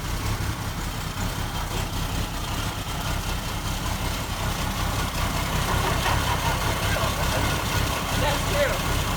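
A 1975 AMC Pacer engine idles with a steady low putt-putt rumble throughout, while someone talks over it.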